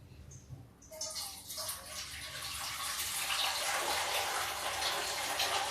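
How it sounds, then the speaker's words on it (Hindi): Water pours from a vessel into a pot of kadhi, a buttermilk curry, starting after a quiet second and then gushing steadily and closely with a bright, rushing splash that builds and holds. "थोड़ा सा पानी हम और डालते हैं।"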